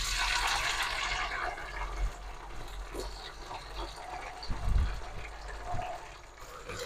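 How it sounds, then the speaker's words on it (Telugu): Tomato pieces tipped into a pan of frying onions for a potato and egg curry, giving a steady wet sizzle and hiss with a few soft clatters and bumps, close by and fairly quiet. "ఇప్పుడు ఇందులోనే మనం టమాటా ముక్కలు అయితే యాడ్ చేసుకున్నాము"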